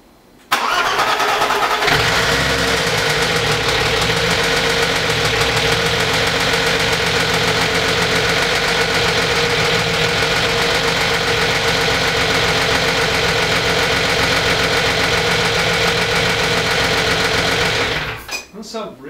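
BMW E30 engine firing on its first start: a brief crank, then the engine catches and idles loud and close with a steady rattly rumble and knocking, running evenly until it cuts out near the end.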